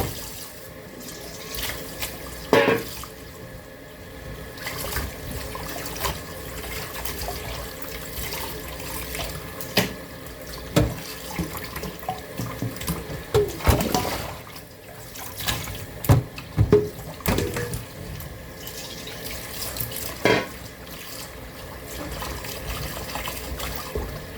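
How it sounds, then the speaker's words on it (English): Running tap water pours into a bowl as turkey is rinsed, a continuous splashing flow broken by irregular sloshes and louder bursts as the meat and water are stirred. "You're rinsing until the water runs off there."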